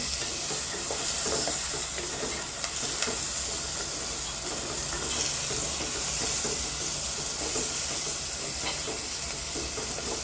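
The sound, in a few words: sautéing shallots, garlic and onions in a pan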